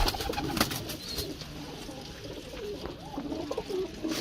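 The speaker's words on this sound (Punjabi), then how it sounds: "ਚੈੱਕ ਕਰੋ ਜ਼ਰਾ ਕੈਸੇ ਕੈਸੇ ਕਬੂਤਰ।" Pigeons cooing softly at a rooftop loft, low throaty calls repeating irregularly at close range over a steady outdoor hum, with no one talking.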